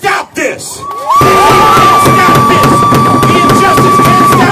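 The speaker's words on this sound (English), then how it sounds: "Look at this crowd." A large crowd cheers and shouts at an outdoor civil rights march marking the 50th anniversary of Martin Luther King's Marquette Park march in Chicago. The cheering swells suddenly and stays loud and steady, with a whistle and whoops rising above it.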